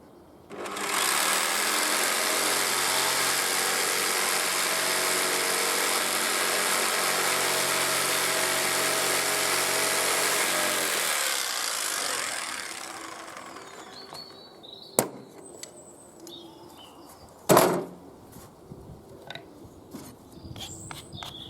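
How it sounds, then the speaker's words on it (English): Ends of a wooden bench hook cut off with a power saw, a loud steady whirring buzz lasting about eleven seconds before winding down, followed by quiet with a couple of sharp knocks. "Let's just saw those ends off."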